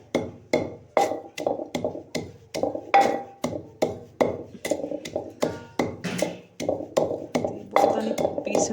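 Roasted spices being pounded for pickled chillies in a Punjabi home kitchen, a steady run of sharp, evenly spaced thuds close up, repeating about twice a second throughout.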